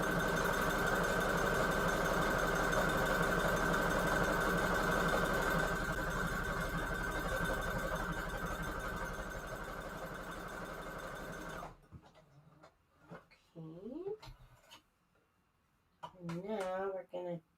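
A sewing machine runs in a long, steady whirring burst while stitching a junk journal, then stops, leaving quiet handling noises and a voice speaking briefly.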